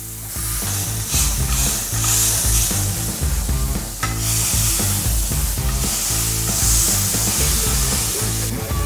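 A smashed onion burger patty sears loudly on a dry pan, a constant crackling sizzle close up, overlaid by rhythmic background music with pulsing bass.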